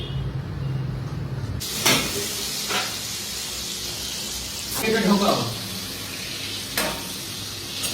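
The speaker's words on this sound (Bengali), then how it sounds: "ডিম ভাজা হচ্ছে" Eggs frying in a pan in a home kitchen give a steady, moderate sizzle, broken by a few sharp clatters and a brief louder burst of crackling midway.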